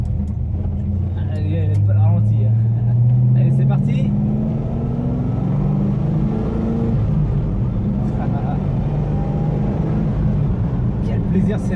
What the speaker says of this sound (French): Allez, on va repartir sur une accélération.